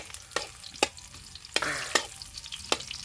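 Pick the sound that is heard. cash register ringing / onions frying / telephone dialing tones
onions frying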